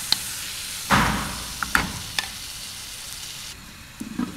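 Meat pieces for a tajine fry in a hot pan, with a soft continuous sizzle broken by a few louder stirring scrapes and clanks near the start, close by and with no talking.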